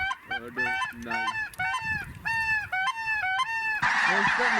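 A large flock of snow geese honks loudly and continuously in rapid overlapping calls, close by over a late-season hunting field in Montana, with a sudden rush of wind noise near the end.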